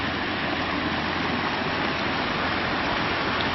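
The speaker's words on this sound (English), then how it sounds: "Coming down to the waterfalls at the edge of our property" Waterfall at the edge of a rural property near twin creeks, a continuous dense rushing roar, steady and fairly loud, with no other sounds.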